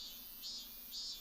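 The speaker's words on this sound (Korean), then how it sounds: "한밤에 울려 퍼지는 매미 울음소리는 지속적인 수면 장애를 가져올 수 있고" Cicadas droning at night, a steady high-pitched insect buzz that swells in pulses roughly every half second, moderately faint and continuous with no voices present.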